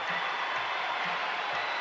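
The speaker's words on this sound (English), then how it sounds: "A sellout crowd here in the Cap Center roaring its approval" A sellout basketball crowd at the Capital Centre arena after Washington's one-point home-opener win over the Bulls, a continuous broad roar of cheering and applause, distant and steady with no breaks.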